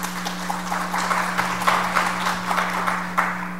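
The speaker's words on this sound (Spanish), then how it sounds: "Démosles todo un aplauso de bienvenida" Welcoming applause from an audience at an education talk, steady clapping that carries for several seconds over a constant low electrical hum.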